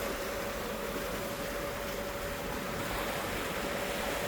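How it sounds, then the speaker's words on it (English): Small breaking waves and whitecaps on Lake Roosevelt above the Grand Coulee Dam, heard from a Ranger Tug as a steady, faint wash of water with wind noise and no distinct individual crashes. "A lot of little breaking waves"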